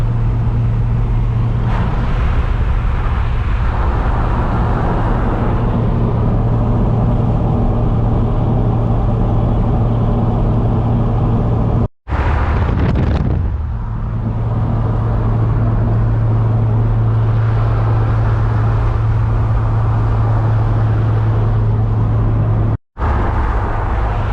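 A car on a road trip along the Alaska Highway gives a continuous, loud engine and road drone while driving around the side of a big lake. Two brief dropouts break the steady hum.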